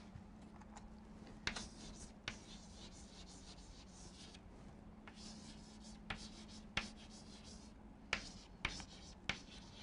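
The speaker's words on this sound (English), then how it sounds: "Let me write it for those who are watching it online." Chalk or marker strikes a board during a film-studies lecture, a run of faint taps and scratches spread unevenly, some clustered near the end, over a steady low room hum.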